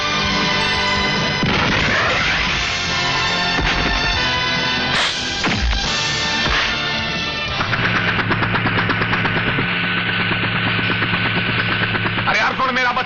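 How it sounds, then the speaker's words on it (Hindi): Bomb blast and chaotic action-scene din from a Hindi action film starring Amitabh Bachchan and Kader Khan, loud crashes and bursts over a dense, continuous soundtrack, with a sharp impact midway. "भैया विजय बम!"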